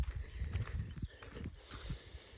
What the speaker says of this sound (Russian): Коровы ходят.